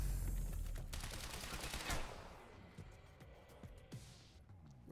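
Bursts of gunfire in Quantum Break, a loud rapid volley at first that thins into scattered individual shots, fairly close, with no talk.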